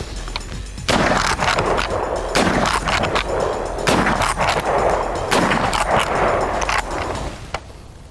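A Winchester rifle fires hard cast lead bullets at buffalo targets outdoors, several loud sharp cracks spaced a second or so apart, each with a ringing echo tail.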